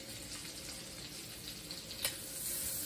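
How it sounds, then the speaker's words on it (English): Curry pork chops sizzle and fry in a pan, a steady close crackling hiss throughout with one sharp clink near the end, no voices. "So we're going to let those cook for about 3 minutes-ish until they are browned on the bottom."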